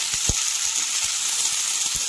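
Cauliflower, potato and carrot fry in oil with a loud, close, even sizzle and a few soft stirring taps, unaccompanied by speech.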